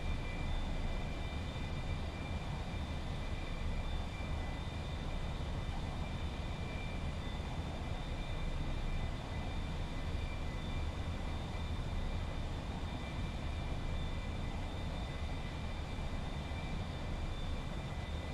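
Steady drone of a heavy aircraft engine in a flight simulator game, a constant even roar with faint high tones, continuous and unchanging, no talking over it.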